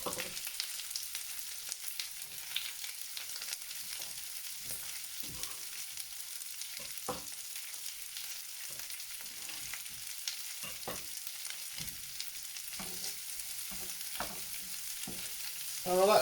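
Peppers and onions fry quietly in a pan for a chicken and vegetable frittata, a steady low sizzle broken by occasional stirring scrapes and clicks, with no talking.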